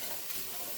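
Celery, onion and carrot sofrito cooks down in a pan, a brief, steady, faint sizzle with no break.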